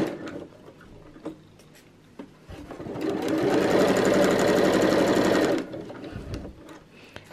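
A sewing machine stitches a Christmas tree skirt seam through fabric and bias tape with a small presser foot at a quarter-inch allowance, starting after a few soft handling noises and running as one loud, steady burr of about two and a half seconds.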